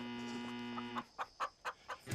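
Chickens on a farm cluck in a quick run of short, evenly spaced calls while being chased, fairly faint and heard after a steady tonal hum fades out.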